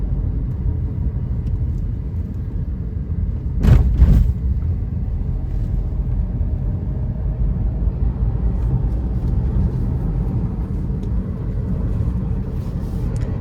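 A Maruti Suzuki Ignis cruising steadily at 80 km/h with the AC on, heard from inside as a constant loud low road and engine rumble with a brief bump partway through and no talking.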